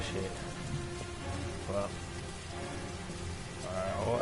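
Rain falls steadily in the video game Heavy Rain, a constant close patter on surfaces lasting throughout, with faint game sounds and a brief spoken curse from a player over it.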